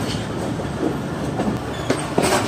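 The Tezgam express runs on rails on its way from Rahim Yar Khan to Karachi, a close, steady rolling rumble broken by rhythmic wheel clacks and brief squeals, with no voices.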